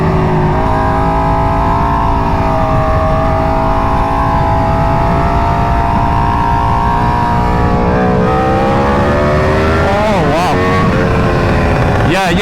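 An Aprilia RSV4 superbike running the Gabro MTorque map pulls hard under load. The engine drone is loud, close and continuous with rising and falling pitch, wind rush sits over it, and a quick series of revs comes near the end.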